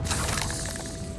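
A Confringo blasting spell in Hogwarts Legacy cracks out sharply and loudly at once, then breaks into a brief, bright crackling burst that fades over about a second.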